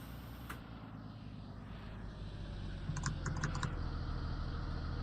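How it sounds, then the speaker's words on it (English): Quick bursts of computer keyboard keystrokes come in a short cluster over a low steady engine-like hum, faint and somewhat distant. "That was someone's keyboard."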